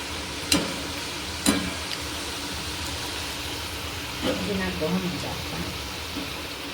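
Nachos chips fry in oil over a low gas flame, giving a steady close sizzle throughout with a few brief clinks and stirring scrapes over the top.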